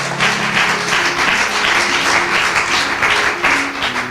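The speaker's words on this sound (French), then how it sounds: "Applaudissons Jésus." A church congregation applauds loudly at a sermon, a thick sustained clapping roar with a few faint held musical tones underneath, fading slightly near the end.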